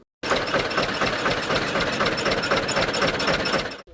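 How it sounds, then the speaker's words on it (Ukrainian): A diesel electric generator drives the pumps of a water-supply borehole during an emergency drill, giving a steady, loud, continuous engine drone with a rapid knocking rhythm that runs unbroken for nearly four seconds before cutting off. "за допомогою дизельного електрогенератора запустили насоси однієї зі свердловин"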